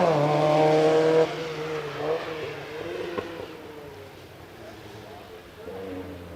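A Volkswagen Golf Mark 1 GTI rally car on a hillclimb, its engine loud at first then dropping away, with a commentator's voice running over the engine noise.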